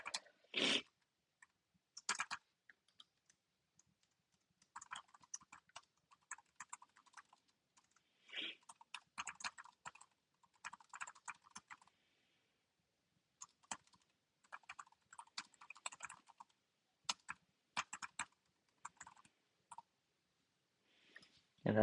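Computer keyboard typing as a message is entered into an AI content tool: quiet, close clicks in irregular bursts with short pauses between them.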